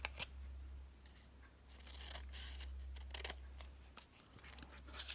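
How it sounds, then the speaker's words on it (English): Scissors snip the self-seal flaps off small coin envelopes, a run of crisp close cuts and paper rustles with short pauses between them over a low steady hum, no voices. "I'm actually going to cut the flap off them"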